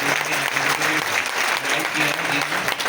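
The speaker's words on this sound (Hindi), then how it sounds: "एक अकरम जावेद सर के लिए जोरदार ताली बजाएं" An audience at a Modicare sales meeting applauds a guest, Akram Javed, with steady, dense clapping that fills the room continuously, and a voice faintly underneath.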